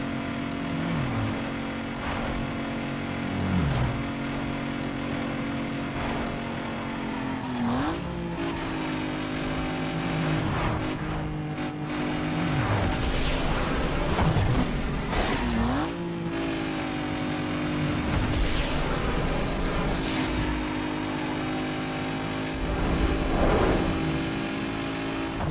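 Racing video game cars roar through repeated accelerations and gear shifts, with engine pitch rising and dropping sharply and several whooshing nitrous-style bursts, loud and continuous throughout.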